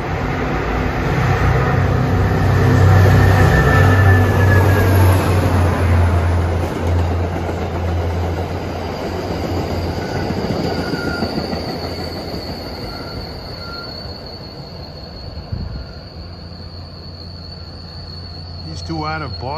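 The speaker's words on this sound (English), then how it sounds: "wait for Lowell bound train 317" A Lowell-line commuter train rolls past on the rails with a loud rumbling roar, then fades away as high wheel squeals and a distant whistle-like tone linger.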